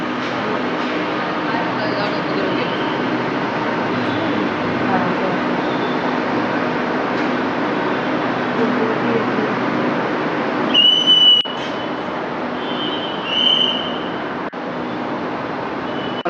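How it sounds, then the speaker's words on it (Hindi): A Mumbai monorail train pulling into the station, heard as a loud, steady rumble with a couple of brief high squeals near the end. "तो जी ये आ रही है मोनो रेल।"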